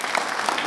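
A brief, dense burst of applause for a company, many hands clapping together in a steady close roar.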